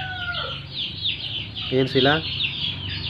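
Turkey chicks kept with a mother chicken hen in an open hanging cage give soft high peeps throughout, with a couple of nearer clucking calls in the middle and a brief voice.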